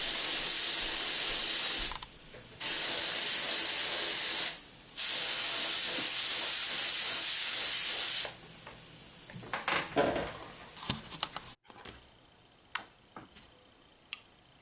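Spray gun laying a first coat of black pearl paint on a Matchbox Mustang, a loud steady hiss in long bursts with short pauses, then quieter clicks and small knocks.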